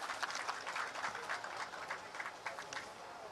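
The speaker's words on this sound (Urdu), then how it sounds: "بہت ساری تالیاں ہونی چاہیے بھائی" Faint, steady applause from a crowd at a chief minister's media briefing, a dense patter of clapping heard from a distance for the full few seconds.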